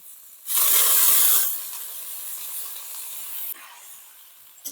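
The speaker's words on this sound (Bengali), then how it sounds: "এরপর পরিমাণ মতন জল দিয়ে দেব" Water hits hot frying spice paste for a Bengali tel koi fish curry with a sudden loud burst of hissing, which eases into a sustained steamy sizzle for several seconds before tapering off.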